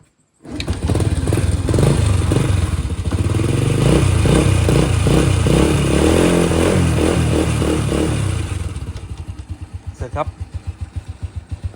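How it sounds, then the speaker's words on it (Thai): A 20-year-old Honda Wave 100 four-stroke motorcycle starts and settles into a loud, steady idle close by for about eight seconds, then the engine is cut and sputters down. No one speaks over it. "เสร็จแล้วก็ สตาร์ท เครื่อง วอร์มอัพ"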